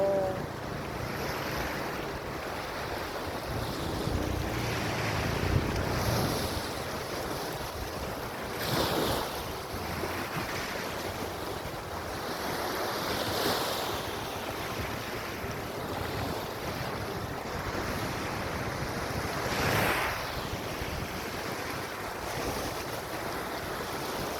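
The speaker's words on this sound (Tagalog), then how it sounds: "Yan yung dagat. Napakaganda ng dagat dito." Steady wash of surf rolling in with wind gusts buffeting the microphone, a few louder swells breaking around the middle and toward the end.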